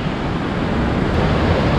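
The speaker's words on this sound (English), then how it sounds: "it's a normal looking fast flowing river and then it's been channeled here through the canyon with these sheer cliffs" A fast-flowing river rushes through a narrow canyon between sheer cliffs near Mestia, Georgia, a steady loud roar of churning water with no voices.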